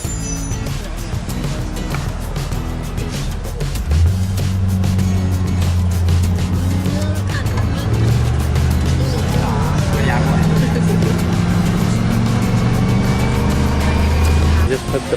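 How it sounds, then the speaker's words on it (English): Steady bus engine drone on the ride to Mammoth Cave National Park, Kentucky, rising at about four seconds into a loud, continuous rumble with road noise, while people talk over it. "Bus ride."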